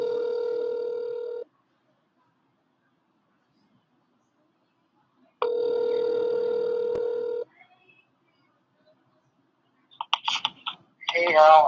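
An outgoing telephone call rings back with two long, steady buzzing rings separated by several seconds of silence. A few clicks and a voice follow as the call is picked up.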